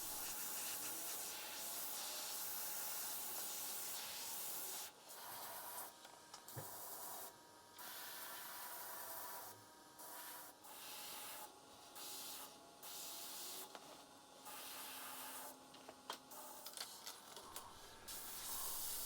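An airbrush sprays burnt sienna paint onto a sea turtle artwork in quiet, intermittent bursts of hiss, each lasting a second or two with brief gaps between them.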